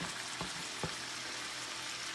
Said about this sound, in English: So I'm going to also add the peppers right here. The mushroom.